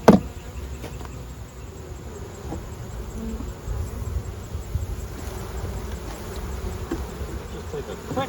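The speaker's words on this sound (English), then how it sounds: "And we have some more bees under the cover on this one." Honey bees buzzing in a beehive under the cover, a steady dense hum of many insects close by with a brief knock at the start, no talking.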